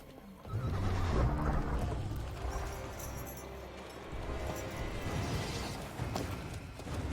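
A horse in The Witcher 3 neighs and whinnies, with clip-clopping hooves beneath, a game soundscape at moderate level with some low rumble.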